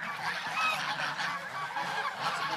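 Domestic geese on a mountain farm honk repeatedly nearby after feeding, a raucous overlapping chorus of calls with no talk.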